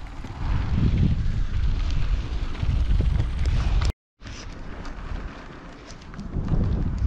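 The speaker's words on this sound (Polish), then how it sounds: "Ciągle wieje wschodni wiatr." Steady east wind blows over open fields and meadows in a dry summer, a continuous rumbling buffet against the microphone with gusty swells and one brief dropout. No one speaks.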